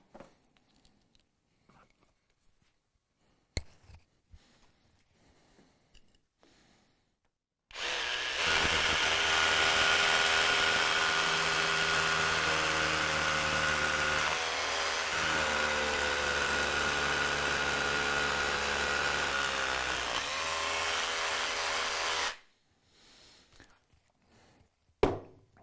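Festool SDS Plus hammer drill boring an 8mm hole into concrete for a direct fixing, a loud steady hammering drone lasting about fifteen seconds with brief quiet handling noises before and after.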